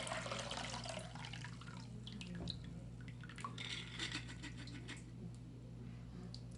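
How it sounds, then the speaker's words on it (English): Rinse water splashes and trickles in a steady stream out of a mason jar of sprouts, with a few drips, close by and fairly quiet over a low background hum. "You're going to pour that out."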